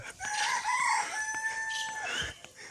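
A rooster crows loudly and close by, a long drawn-out call with a few softer fowl sounds around it and no talking.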